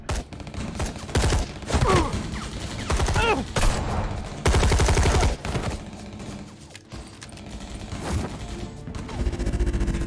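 Gunfire and combat impacts in Telltale's Batman video game, a series of loud bursts and crashes over several seconds mixed with game music and effects, with a voice talking briefly.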